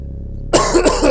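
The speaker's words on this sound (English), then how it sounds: "we're coughing a lot because we're trying to cough it up" A single close, loud cough bursts out of near silence, a harsh throat-clearing hack to bring up phlegm, followed by a couple of rougher rasping pulses.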